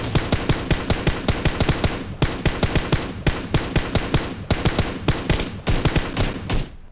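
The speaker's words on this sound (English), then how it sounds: "this is for the purpose of showing you guys recoil control and going full auto" Full-auto gunfire from a shooter video game blasts out in long, rapid, evenly spaced bursts of loud shots, with only short pauses between volleys and no voices.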